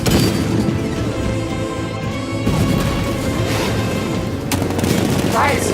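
In the video game Batman: Arkham Knight, heavy 60mm tank cannon blasts and rapid gunfire boom through a dense, layered battle soundscape, with a few sharp bursts standing out.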